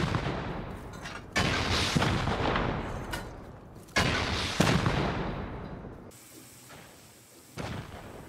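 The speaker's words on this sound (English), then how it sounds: "Just shoot a rocket." Rockets are fired in the video game Rust, several loud booming launches and blasts, each a sudden heavy burst that rolls off into a long decaying rumble, coming about every two to three seconds.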